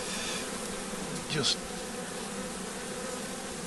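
Honey bees buzz in a steady, close drone around a hive, with one brief louder swoop as a bee passes near, and a man murmurs a word over the hum.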